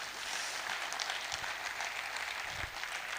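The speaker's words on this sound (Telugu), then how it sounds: "ఒక్కసారి గట్టిగా చప్పట్లు" Audience applause at an Impact Foundation anniversary event, a dense, steady wash of many hands clapping at a distance, fairly faint and continuous with no talk.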